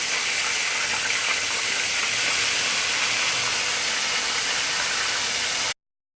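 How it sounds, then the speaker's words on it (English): Chicken wings frying in hot oil, a steady dense hiss and sizzle that holds constant for about six seconds, close and loud, then cuts off abruptly. "So we get this frying right here."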